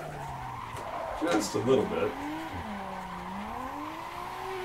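Nissan R34 Skyline with an RB engine drifting in Assetto Corsa: a steady engine drone rises and falls through the turn, with a louder burst of tire squeal near the middle, under someone talking.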